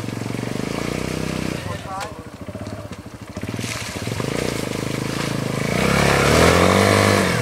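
Kawasaki Bayou 250 ATV engine revving hard in first gear while mudding, a loud buzzing drone that dips, surges back and climbs at the end, with voices heard over it.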